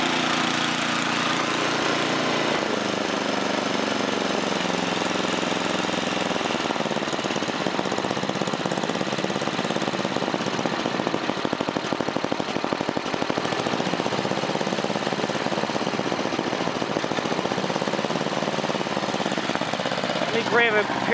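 A Craftsman 10/30 snowblower engine runs steadily with its auger turning, a loud continuous mechanical drone and clatter throughout.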